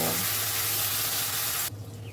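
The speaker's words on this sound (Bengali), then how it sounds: "এবার দিয়ে দিলাম 2 টেবিল চামচ মতো আদা বাটা। ভালো করে মশলাটাকে কষিয়ে নেব।" About two tablespoons of ginger paste and spices, including panch phoron and chilli, hiss loudly in hot oil in a pan. The sizzle is steady, then drops away suddenly near the end.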